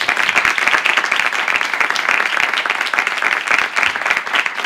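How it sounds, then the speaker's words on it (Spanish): An audience at a televised charity gala claps steadily and warmly for a famous footballer's arrival, dense applause close and loud, with a few cheers mixed in. "Un aplauso para él."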